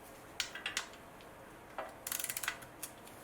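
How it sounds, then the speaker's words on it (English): A ratchet with a 17mm socket clicks while loosening the oil drain bolt on a 2017 Honda Civic petrol automatic. The sound is a few faint scattered ticks, then a quick burst of rapid clicks, quiet and close. "Okay, so we need a 17mm socket"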